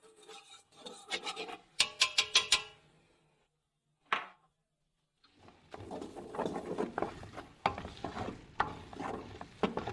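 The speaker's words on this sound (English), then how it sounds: "You need to stir constantly for 30 to 40 minutes until the color changes." A wooden spatula scraping and stirring thick halva made with corn and wheat flour, rhythmic rasping strokes in bursts, a sharp early flurry, a pause, then steady continuous scraping close up.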